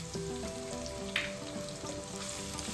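Onions and curry leaves sizzle in a pan for a bottle gourd curry, a steady close crackle and hiss with a brief louder spatter partway through, over a faint musical backing and no talk.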